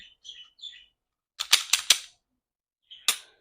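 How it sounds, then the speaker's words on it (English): Glock 23 pistol being cleared, a handful of sharp metallic clicks and snaps close up, a quick cluster of three followed by a single click after a pause, with faint light handling sounds before. "Let me show clear real quick. Clear this weapon."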